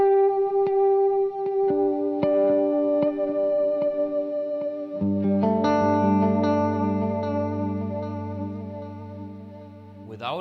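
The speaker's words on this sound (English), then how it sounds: "I'm very proud of that flutter." Tape echo on a Replex unit adds flutter to a few sustained, wavering guitar notes, with a lower chord entering midway and slowly fading, repeats smearing each tone.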